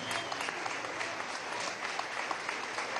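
Oil company workers applaud at a speech event, a dense, even burst of clapping from a sizable crowd, loud and sustained throughout.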